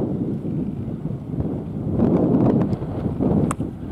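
Gusty wind buffets the microphone on an outdoor golf course during a Ryder Cup-style team match, a steady low roar swelling louder from mid-clip with brief rustles.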